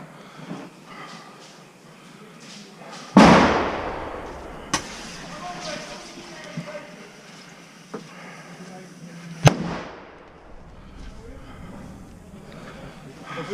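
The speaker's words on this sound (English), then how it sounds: "we've got another nade going down" An airsoft grenade goes off with one sharp, loud pop followed by a scattered crackle and a second crack several seconds later, heard outdoors with people talking around it.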